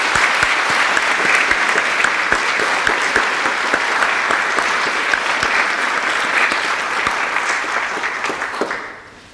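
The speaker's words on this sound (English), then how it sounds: "let's please give a round of applause to our students" An audience at a student art exhibition awards ceremony applauds the students, with thick, steady clapping that holds strong for several seconds before thinning and fading out at the end.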